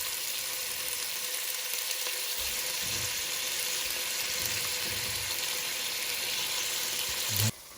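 Drumstick, brinjal and other vegetables fry for sambar in a hot pan, a steady continuous sizzle with faint stirring scrapes, close and alone with no talk, ending abruptly near the end.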